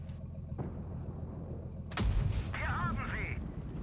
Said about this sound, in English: Great shell velocity, very accurate gun.